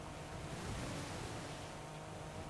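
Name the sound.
car driving through water in Forza Horizon 5 video game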